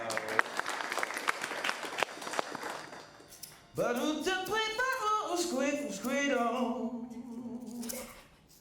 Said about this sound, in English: let's get a round of applause for our video